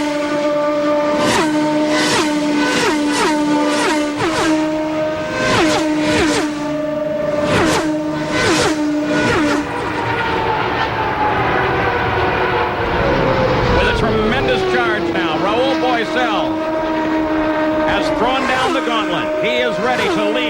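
Indy 500 race cars from the 1993 CART season scream past the line one after another, each high engine whine rising and falling as it passes, loud and continuous with a commentator talking over them.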